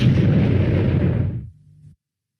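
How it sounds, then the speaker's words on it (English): A rumbling, booming explosion from the Sega Lemmings video game fills the first second and a half, loud and continuous, then cuts to a low hum before silence. "You can just sit back and watch the little guys explode."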